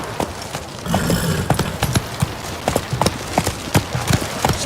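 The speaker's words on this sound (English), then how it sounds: "Whoa there, Roach" Horse hooves clip-clop at a steady trotting rhythm in the video game The Witcher 3, close and fairly loud, with a faint voice mixed in.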